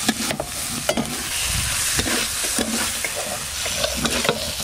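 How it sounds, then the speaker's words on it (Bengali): Fried prawns and onion stalks sizzling in masala in a pan, a dense continuous crackle broken by repeated sharp scrapes and taps of a stirring spoon, up close with no talking. "এবার ভেজে রাখা পেঁয়াজ কলি আর চিংড়ি মাছ একসঙ্গেই দিয়ে দেবো।"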